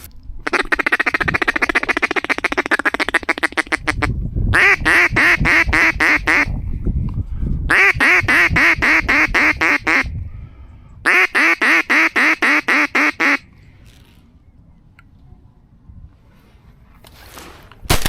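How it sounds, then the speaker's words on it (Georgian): Ducks on a hunt quack in loud, rapid bursts of repeated calls, several long runs separated by short pauses, close by, then fading into quieter rustling and footsteps near the end. "ესეც მეორე იხვები შემოდის კიდე დავიმალო"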